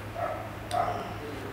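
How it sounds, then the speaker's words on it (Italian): Dogs bark in two short, fairly distant yaps over a faint low background hum. "I cani che abbaiano sono rotture di coglioni. Continuano a abbaiare, nessuno che zittisce."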